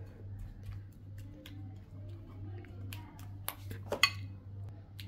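Olivia hair colour being mixed in a bowl, with soft scattered clicks and scraping taps of a brush or spatula against the bowl and a sharper clatter near the end, over a low steady hum.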